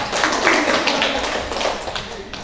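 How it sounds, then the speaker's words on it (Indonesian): An audience at a library event in Blitar claps together, a brief dense patter of many hands, fairly close and steady before fading slightly. "Tepuk tangan buat teman saya"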